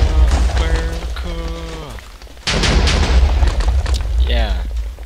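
Minecraft fireworks set off through a Bukkit fireworks plugin during a Fourth of July moment, with booming bursts and crackling blasts under excited voices that whoop and cheer near the microphone.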